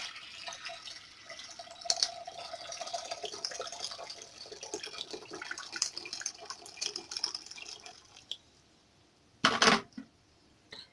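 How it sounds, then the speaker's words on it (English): Hot water is poured into a cooking pot for preparing unripe plantain, giving a close, trickling and splashing stream that shifts as it fills, ending with a short loud clatter. "I'm going to be pouring my hot water"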